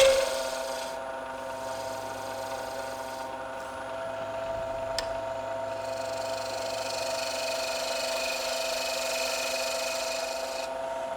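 A steady, continuous rasping scrape with a high whine as a tool tapers a spinning wood pen blank toward its bushings on a lathe, close and unbroken throughout.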